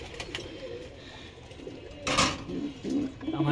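Pigeons in a loft where squabs have just hatched coo softly in low, murmuring calls, mixed with faint clinking and rustling nearby.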